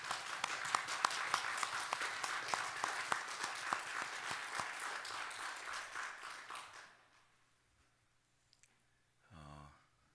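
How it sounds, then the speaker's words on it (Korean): A church congregation at a Korean Sunday worship service claps together in praise. The sharp, dense clapping lasts about seven seconds, then stops abruptly and leaves near silence with a brief thump. "하나님께 영광의 박수를 올려드리겠습니다"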